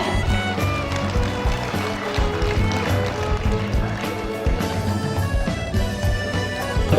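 Applause from the audience at a Kadin provincial meeting (Musyawarah Provinsi VII) in Riau, a dense, steady roar of clapping that fills the hall throughout, with a musical tone running underneath.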